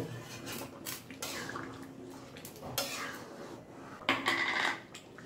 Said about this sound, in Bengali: কড়ার সাইডে যে মশলাগুলো লেগেছিল সেই মশলাগুলো একটু নাড়িয়ে নেব